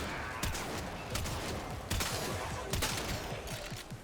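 Rapid bursts of gunfire from the video game Warframe, several volleys of quick repeated shots at steady loudness, with short gaps between bursts and no talking.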